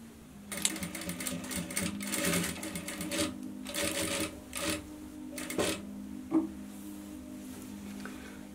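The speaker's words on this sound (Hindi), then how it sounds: "यहाँ पर हमें सिलाई लगाना है यहाँ पर" A sewing machine stitches the neckline fabric of a kurti in several short, fairly close bursts of rapid needle clatter, separated by brief pauses.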